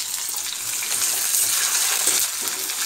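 Amla pieces fry in hot oil with dried red chillies, a dense, continuous bubbling sizzle heard up close with no talking.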